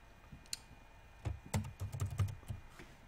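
Typing on a computer keyboard, entering a group name: quiet, close key clicks, a few scattered taps and then a busier run of keystrokes, with no talk.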